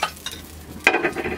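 Pumpkin bori fry in a little oil in a pan at home, giving a soft sizzle with brief stirring scrapes and one louder burst of crackle over about a second.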